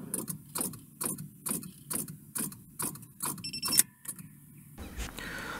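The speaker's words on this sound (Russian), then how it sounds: "Батарея разряжена настолько, что стартер не может провернуть коленвал даже на один оборот" A car starter is tried against a dead battery and fails to crank: a rapid series of about ten sharp relay clicks and ticks, with faint buzzing between them, then a short rustle.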